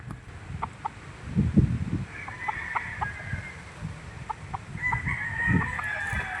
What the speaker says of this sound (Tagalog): Mga street breed nila. Ang manok.